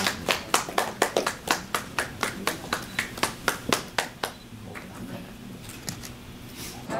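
At a ceremony handing over office to the 131st term's officers, the audience claps in a rhythmic, unison beat of about sixteen strong claps, then the sound fades into soft scattered applause.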